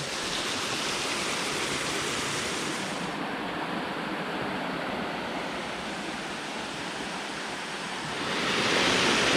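A constant roar of rushing water, a waterfall feeding a mountain stream in Mae Chaem, Chiang Mai, fills the whole stretch, swelling slightly louder near the end.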